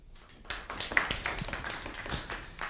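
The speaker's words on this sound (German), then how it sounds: "Dein Mini-Applaus." A small group gives a short round of clapping indoors, a quick patter of hand claps that starts suddenly, stays fairly close and trails off after a couple of seconds.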